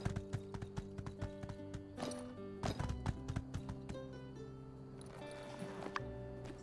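Horse hooves clip-clop steadily at a riding pace in the video game My Time at Sandrock, loud and close over game music, with a brief whinny-like sound and no talking.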